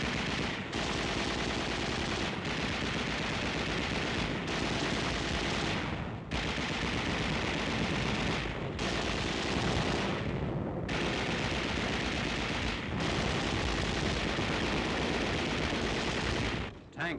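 Sustained heavy automatic machine gun fire from 1945 combat at Naha, loud and continuous in long bursts with brief gaps, no talk.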